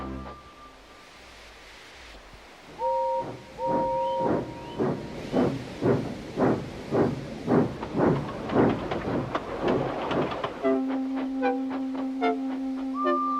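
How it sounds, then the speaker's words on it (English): Rhythmic chuffing bursts from a steam engine build in a steady beat, mixed with hissing and short whistle-like tones, moderately loud with no voices. "came clanking past, hissing rudely"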